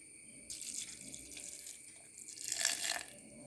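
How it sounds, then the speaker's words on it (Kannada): Water pours into a mixer jar holding ingredients for jowar dosa batter, a splashing stream that starts abruptly, runs steadily and swells louder near the end before easing, close and without talk. "ಇದಕ್ಕೆ 3/4 ಲೋಟದಷ್ಟು ನೀರು ಹಾಕಿಕೊಂಡು ನುಣ್ಣಗೆ ರುಬ್ಬಿಕೊಳ್ತಾ ಇದ್ದೇನೆ"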